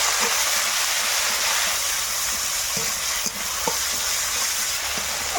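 A ground paste of ginger, garlic and green chili with cumin sautéing in a pan, giving a loud continuous hiss and sizzle, close by, with faint stirring taps underneath.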